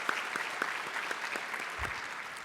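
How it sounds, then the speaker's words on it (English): Faint, distant applause from a conference audience at a morning kickoff event, a soft steady patter of clapping throughout. "please join me in giving them a round of applause"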